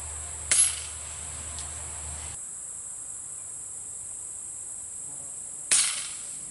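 Two sharp rifle shots fired outdoors at a target on a hillside 154 yards away, each a loud crack with a short decay, about five seconds apart, over a steady background of insect chirping.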